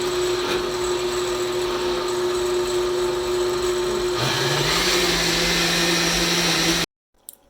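A blender whirs through a batch of salsa with salt, starting at a steady motor drone and then shifting to a higher, louder speed partway through before cutting off abruptly, with a faint knock after it stops.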